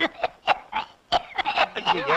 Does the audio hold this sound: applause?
no